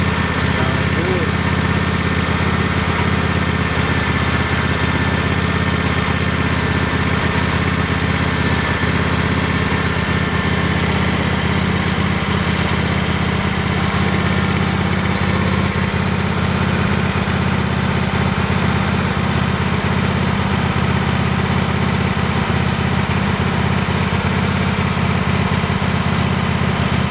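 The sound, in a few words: new engine idling on SCAG lawn mower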